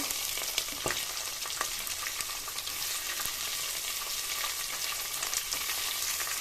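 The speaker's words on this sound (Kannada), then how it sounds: "ಈರುಳ್ಳಿ ಸೇರಿಸ್ಕೊಂಡು ಬ್ರೌನ್ ಕಲರ್ ಬರೋವರೆಗೂ ಫ್ರೈ ಮಾಡ್ಕೋಬೇಕು" Onions fry in oil with ground spice masala for avarekalu menthya bath, holding a continuous close sizzle and crackle with a few sharp clicks and no voices.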